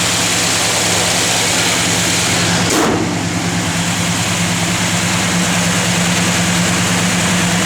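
A 1963 Plymouth Sport Fury convertible idling, a loud steady low engine rumble that holds without a break, a brief whoosh passing partway through, no talking.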